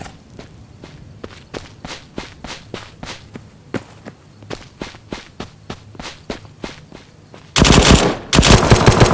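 Pistol fire in a Battlefield 1942-style shooter, close-range combat: a long run of sharp, evenly spaced shots at a brisk steady pace, then a burst of louder, denser gunfire at the end, no voices.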